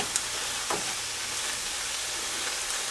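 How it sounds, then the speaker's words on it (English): Dried herbs being stirred into a simmering spaghetti meat sauce in a pan, a steady close sizzle and bubbling hiss with a few faint spoon scrapes, no voices. "And just stir those in"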